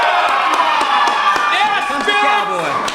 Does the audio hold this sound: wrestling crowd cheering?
yes